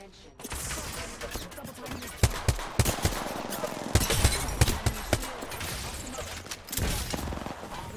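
Apex Legends gunfire: scattered sharp shots and short bursts over a busy game mix, some fairly close, with players talking over it.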